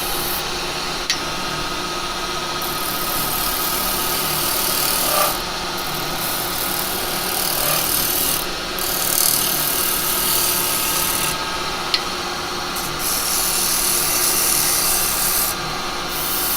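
A carbide chisel cuts wood on a lathe, giving a steady close rasping scrape that runs continuously with slight swells in intensity and no talking.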